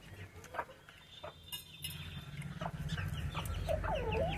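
A chicken clucks nearby in short bursts, growing a bit louder toward the end over low background rumble.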